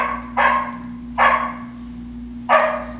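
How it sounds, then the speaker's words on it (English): A dog barks three times in separate single bursts, fairly close and loud, with a steady low hum running underneath and no talking. "of course, the dog starts to bark."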